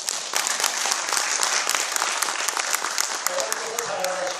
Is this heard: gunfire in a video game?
no